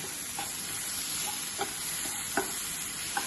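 Spices for a Punjabi chicken Patiala sizzle steadily in a pan, a constant close frying hiss broken by a few sharp spoon scrapes and taps as the mixture is stirred.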